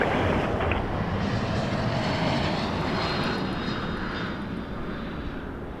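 A Challenger business jet takes off from a runway at Toronto Pearson Airport, its engines producing a loud, steady roar that stays close throughout and fades only slightly toward the end.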